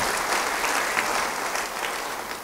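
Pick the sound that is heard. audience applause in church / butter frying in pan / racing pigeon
audience applause in church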